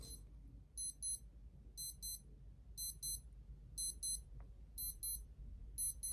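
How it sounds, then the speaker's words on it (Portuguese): A faulty clock keeps beeping on its own: quick paired electronic chirps repeat in a steady rhythm, faint and thin over a quiet room hum. "O relógio tá apitando e aí ele quebrou"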